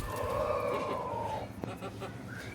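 A white hen clucks loudly after laying an egg, giving a long drawn call then sharper short clucks, close by, with faint background noise.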